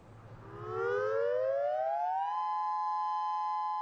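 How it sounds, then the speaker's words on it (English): A loud tsunami warning siren in Japan winds up from low to high pitch, then holds a steady, piercing tone. "Everyone knows what to do when the sirens sound."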